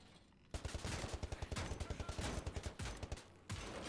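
Gunfire in Wolfenstein: The New Order, a rapid automatic burst of about twenty evenly spaced, fairly loud shots that starts abruptly, followed by a short pause and one more burst.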